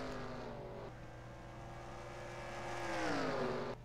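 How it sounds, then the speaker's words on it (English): A race car in a sim racing game at Rockingham drones steadily as the driver lifts off to save fuel, the engine pitch dropping then sliding lower in a smooth continuous note. "You hear him saving fuel, trying to hold on to that race car"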